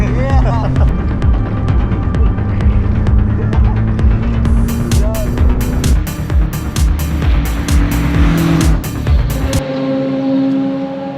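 A Radical race car driving on a track makes a loud, throbbing engine drone with rapid clicking pulses and shifting pitch, close and continuous throughout.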